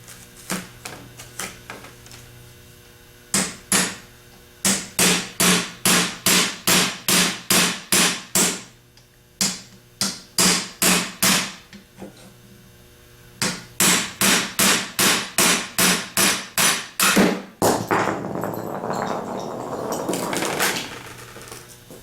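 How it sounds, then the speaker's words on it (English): Loud, sharp metallic hammer blows striking a center punch on a Denso alternator shaft, landing in quick rhythmic bursts of about a dozen strikes with short pauses between groups. "All you really need is an ordinary center punch and a hammer."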